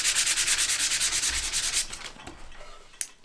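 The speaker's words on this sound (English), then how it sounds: "I'm gonna go over it with the sanding block to just kind of pull up more of that paint off the stain." Steady rhythmic rubbing of a sanding block over painted, stained wood, brisk back-and-forth strokes for nearly two seconds, then slower, lighter passes with a small knock near the end.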